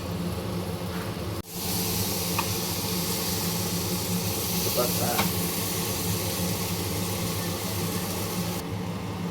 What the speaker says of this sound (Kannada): ಟೂ ವಿಸಿಲ್ ಆದರೆ ಆಫ್ ಮಾಡ್ಕೋಬೇಕು